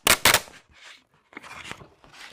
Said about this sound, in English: Right, let's peel the whole sheet off.